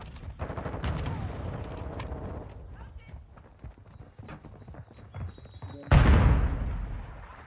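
Gunfire in the shooter game Modern Warfare 2, with bursts of rapid shots and impacts under game voice chatter, and a sudden loud blast near the end.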